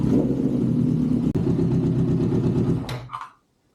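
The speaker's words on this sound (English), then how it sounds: "We'll start by warming the bike up so that we can drain the oil." A Honda CB750 motorcycle engine warms up at a steady idle, a close, even low rumble with a brief click partway through, then it shuts off and falls silent near the end.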